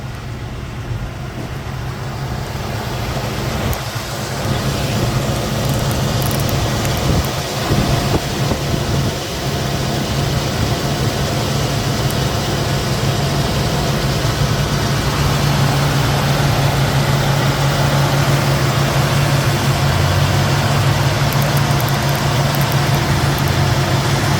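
A warmed-up V8 in a red 1966 Ford Mustang Coupe idling steadily, a loud, continuous low rumble that holds for the whole stretch with a brief rise in the middle.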